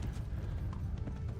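A horse's hooves clip-clop at a steady rhythm in the Kingdom Come: Deliverance video game, a close, dull stream of beats over a low rumble, lasting only a moment.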